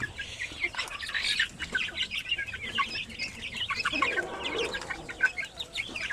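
Purebred sampin and Basilan gamefowl cluck and call steadily together in a shared cage, a dense overlapping chorus of close clucks with occasional sharper crows.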